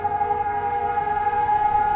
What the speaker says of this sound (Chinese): 解除警报声还蛮久的，